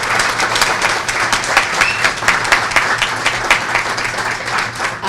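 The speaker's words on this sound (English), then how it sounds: "But a round of applause for our president, Rick Parker, who kills it every day." Loud, close applause from a crowd at a chamber of commerce annual meeting, honoring the organization's president; dense clapping with some sharper individual claps, sustained for about five seconds.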